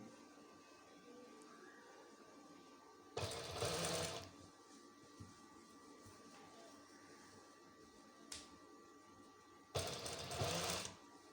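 Two brief bursts of a sewing machine stitch around a curved neckline, each roughly a second long and heard up close, with quiet gaps of faint handling noise between them.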